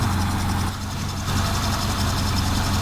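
A Mitsubishi 4G13 engine idles steadily at about 650 RPM, a continuous low rumble with an even throb, close and fairly loud with no talk over it.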